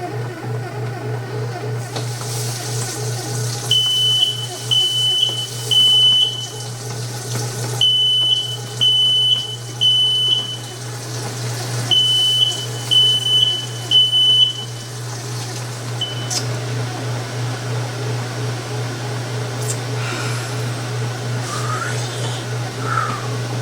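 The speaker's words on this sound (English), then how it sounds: "Fire alarm went off." A smoke alarm sounds in a home kitchen after sugar boiled over and burnt on the stove, giving loud bursts of rapid repeated beeps in three groups over a steady background hum.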